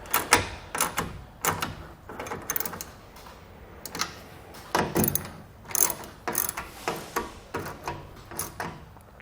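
Clamps on a Yakima Landing Pad 6 roof rack tower being tightened, giving repeated sharp ratcheting clicks in short bursts, close and fairly quiet, about a dozen clusters with brief pauses between them.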